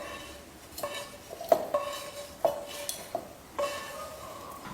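Several light metallic clinks and scrapes of a spoon against a mixer jar while spooning cooled masala in, spaced irregularly, close and fairly quiet.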